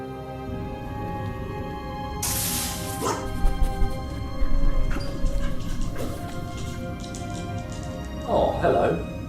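A ship's dog barks and whimpers at close range in short, uneven bursts, with some crashing and clattering mixed in around it.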